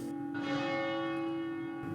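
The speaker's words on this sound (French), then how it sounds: "Sa cloche retentit, pour un événement ou juste pour annoncer l'heure." A village church bell tolls from the heights of the town, a sustained ringing tone with a bright shimmering overlay that swells early and rings on steadily, moderately loud and unaccompanied by voices.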